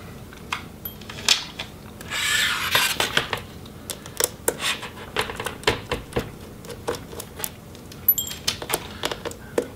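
Screws being removed from a Razer Blade Stealth RZ09 laptop: a string of small metallic clicks, taps and light clinks close by, with a brief busier scraping patch early on; no speech.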